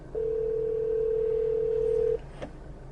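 Ringback tone of an outgoing phone call heard through an Mpow MBR2 Bluetooth handsfree car kit: one steady, clear tone held for about two seconds, then silence and a faint click.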